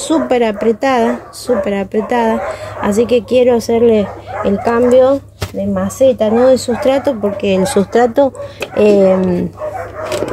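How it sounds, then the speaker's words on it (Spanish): Neighbours' dogs barking in the distance outdoors, faint and intermittent beneath someone talking steadily close by. "perdonen los perros de los vecinos."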